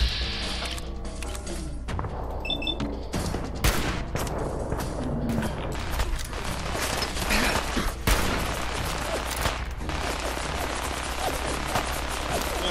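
Dense, sustained gunfire from a firefight in Fallout 4, with rapid overlapping shots and bursts that fill the whole stretch at a steady, loud level, with no talking.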